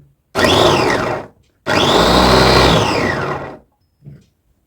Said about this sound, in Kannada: ಈಗ ಮುಚ್ಚಳ ಕ್ಲೋಸ್ ಮಾಡಿ ಮೋಟರ್ ಇಟ್ಟು ಸುಮ್ಮನೆ ಹೀಗೆ ಇಟ್ಟು ಪ್ರೆಸ್ ಮಾಡಿದ್ರೆ ಆಯ್ತಷ್ಟೇ